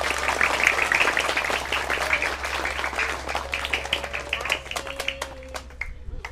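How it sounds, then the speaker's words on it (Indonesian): Steady applause from a crowd at an Indonesian elementary school event fills the clip, a dense patter of many hands clapping that thins toward the end, with a low hum underneath. "Yuk tepuk tangan buat kita."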